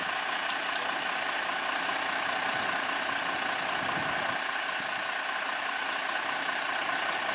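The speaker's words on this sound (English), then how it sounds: "Hear that big diesel engine going." A big diesel engine idles outside a post office with a steady, broad rumble and hiss, loud and continuous throughout, no voices over it.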